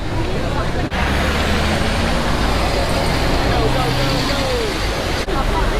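A bus rumbles past on a busy Singapore street. The low, heavy engine and road noise stay loud and steady throughout, with surrounding traffic and people's voices mixed in.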